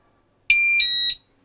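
A Pyronix Enforcer alarm keypad gives a single electronic bleep on setting, a bright pure tone with a brief stutter, loud and close, lasting under a second against silence.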